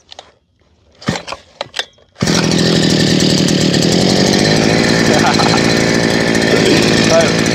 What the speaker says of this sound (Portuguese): Eu estou com a broca de 100 mm, outra de 150 mm e outra de 200 mm para nós fazer o teste nesse perfurador